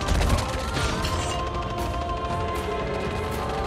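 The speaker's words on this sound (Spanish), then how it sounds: "Busco cubrirme de los disparos." Gunfire in a sniper-focused squad shooter video game crackles as a dense, continuous burst of shots and impacts, loud and close, with no pauses across the whole stretch.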